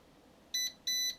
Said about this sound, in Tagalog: nag-beep and connected na siya